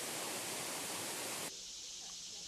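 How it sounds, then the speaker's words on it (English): Large waterfall on the east coast of the Carolinas, a steady broadband roar of falling water that drops abruptly in level halfway through, continuing more softly. "This is the largest waterfall on the east coast of North and South Carolina"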